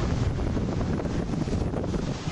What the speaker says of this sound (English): Huge gust of wind.